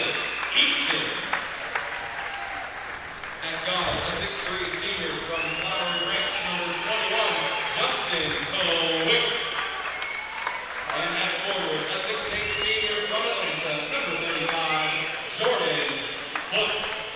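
Crowd applause for players introduced before a Piedmont men's basketball home game against Maryville, a steady wash of clapping and cheering that fills the gym throughout, with an announcer's voice running over it.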